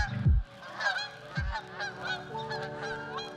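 Geese honk repeatedly on a New Hampshire lake, several close calls across the clip over steady background noise and a low thump from the boat.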